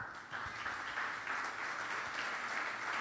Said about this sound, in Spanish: Démosle un aplauso, hermano, a ellos.